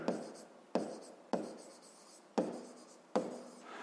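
Pen or chalk writing out a math note on a polygon's perimeter: five separate bursts of scratchy stroking, each starting with a sharp tap and trailing off, close and fairly quiet with no talking.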